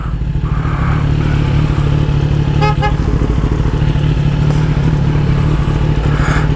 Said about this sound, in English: Who's honking?